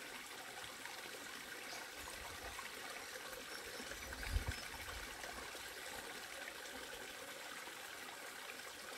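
A small waterfall trickles in a steady, faint wash of flowing water, with one soft thump partway through.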